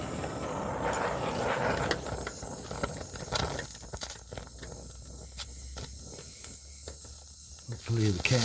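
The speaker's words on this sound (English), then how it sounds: "I'm going to weld a couple more spots." Short bursts of welding hiss and crackle on a metal project, a couple of spot welds sputtering over steady background noise, then a louder flare near the end.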